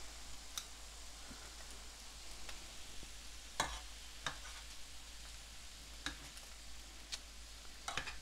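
Chicken pieces brown in a pan on a stovetop burner for a mushroom thyme chicken dish, giving a steady, close sizzle with scattered sharp pops and crackles and no talking.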